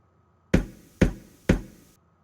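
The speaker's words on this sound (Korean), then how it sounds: "다음 여관문을 두드렸을 때" Three evenly spaced, firm knocks rap on a wooden inn door, each sharp and close with a short decay into silence.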